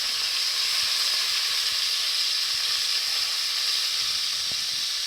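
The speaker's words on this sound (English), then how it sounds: "Go ahead and brown your steak on all sides." Beef steak browning in a Dutch oven for beef and barley soup, a steady, close sizzle and hiss of searing meat that holds unbroken for the whole stretch, with no talk.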